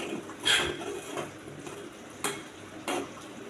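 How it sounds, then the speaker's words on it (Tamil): A spoon stirs kurma of potato, onion, tomato and gram flour boiling in a pot. A few distinct scraping strokes and clinks sound over a low simmer, fairly close and quiet. "அடுத்து குருமா கொதிச்சிட்ருக்கு. அது நல்லா கிளறி விடுவோம்"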